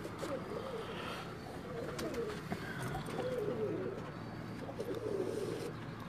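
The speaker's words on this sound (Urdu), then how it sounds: "اور یہ کبوتر آپ دیکھیں" Pigeons at a home loft cooing in low, throaty rolling phrases, repeated several times at moderate distance over a steady background hum.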